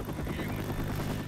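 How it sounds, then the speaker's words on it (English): Helicopter arriving in the Left 4 Dead video game, a steady low rotor drone that fills the whole moment at even loudness with no talk over it. "The chopper's here!"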